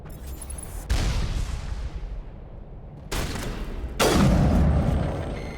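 Heavy gunfire in the Mass Effect video game, rapid bursts of loud shots with booming impacts that swell in waves, with no talk.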